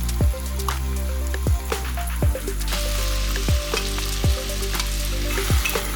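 Potatoes stir-frying in a pan as chopped Cheongyang chili and seasoning sauce go in, a steady close sizzle broken by several sharp scraping stirs at irregular intervals, with no talk.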